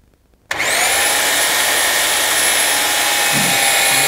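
Maxis XD10 cable puller switching into low gear, its motor starting abruptly after a brief near-silence and then running loud and steady with a constant high whine for several seconds.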